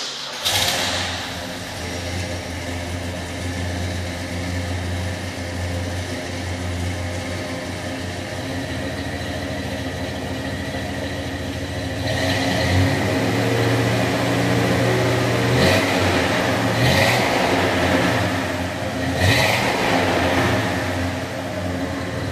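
A 1968 Oldsmobile 442 muscle car with a 350-horsepower Rocket 400 V8 runs loud and steady, its engine rising into several sharp revs in the second half; a voice talks over part of it.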